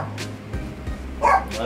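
A female dog gives a couple of short barks amid a noisy room, with people talking around it.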